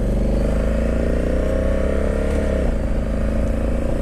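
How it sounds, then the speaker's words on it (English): A Honda Africa Twin Adventure Sport DCT motorcycle in manual mode runs loud and close with a steady, throbbing engine note that shifts pitch midway as a gear is changed by foot. "Stick that in manual, so hopefully I should be able to shift with my foot"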